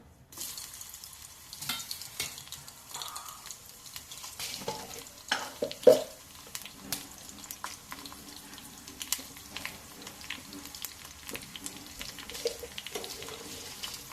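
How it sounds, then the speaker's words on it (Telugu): Garlic tempering crackles in hot oil for tamarind dal, a faint, uneven patter of sizzling pops and light stirring knocks over a quiet kitchen, without speech. "తాలింపు వేసేసుకున్నాం ఆయిల్ వేడెక్కింది"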